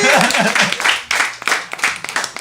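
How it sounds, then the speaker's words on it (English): An audience at a community tea night claps for performers, a broad burst of applause that swells and fades in waves, mixed with a speaker's voice over it. "give Clara and Piero another round of applause"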